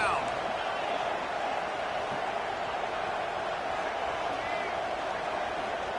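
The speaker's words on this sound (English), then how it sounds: "Guns up, and so is the noise. The crowd electric, trying to help Tech on this third down." A college football stadium crowd roars on a Texas Tech third down, a sustained, loud, even wash of cheering and noise filling the whole stretch without letup.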